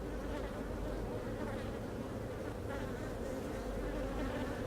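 Honey bees buzz steadily in an open beehive during an inspection for newly emerged queens, a dense, continuous drone close by with no talking.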